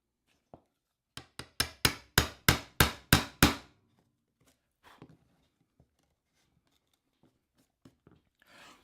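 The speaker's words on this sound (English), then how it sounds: "I will now clean up these corners with a chisel." Chisel being struck to clean up wood corners on a handmade picket bench: a quick run of about eight sharp, evenly spaced taps, close and loud, followed by a few faint scattered knocks and handling sounds.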